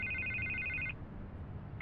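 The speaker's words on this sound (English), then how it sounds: "I can't get the phone to stop ringing." A telephone rings in a video game scene, a bright electronic trill that sounds for about a second, breaks off, then starts again, clear and close with no one speaking.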